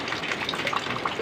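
Rainwater gushing steadily into a drum on an island homestead during a rainy day, a continuous close splashing rush with no talk.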